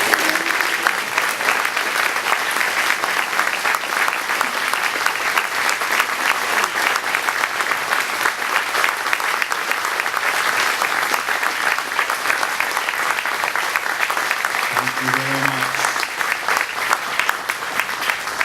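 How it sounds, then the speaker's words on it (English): Loud, sustained applause and standing ovation from a large dinner crowd, steady and continuous throughout with dense clapping and no pauses. "would you help me with a round of applause and a standing ovation for Dick Cole"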